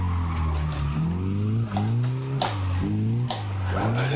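Mazda MX-5 Miata drifting around a drift park circuit, its engine revving in repeated rising and falling sweeps with bursts of tire squeal, loud and close throughout.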